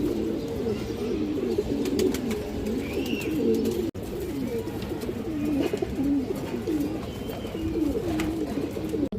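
Many pigeons of fancy breeds coo in a steady, overlapping murmur throughout, with occasional wing flutters and faint chirps in the background.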